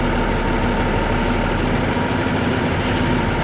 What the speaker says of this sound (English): I can tell by that surging sound of the engine that the brakes are holding